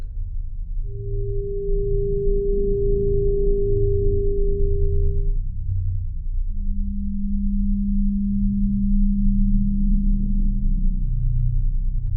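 Two steady pure synthesized tones between 200 and 400 Hz play one after the other, a higher one for about five seconds, then a lower one, over a low background hum.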